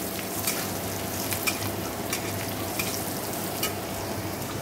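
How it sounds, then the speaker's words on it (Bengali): Onions frying in a pan on a home kitchen stove: a steady, dense sizzle and crackle runs evenly throughout, with occasional small pops standing out over the constant hiss. "এখানে পেঁয়াজ ভাজছি"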